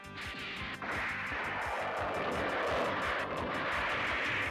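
In an animated sci-fi battle, a drone aircraft flies away with a loud, continuous engine roar and a rhythmic throbbing pulse that holds steady throughout.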